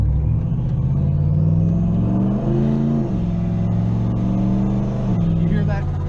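A turbocharged Chevrolet C10 truck with a cheap $40 exhaust piped past the cab rumbles and revs, its engine note climbing and dropping twice, loud and near, with voices talking over it.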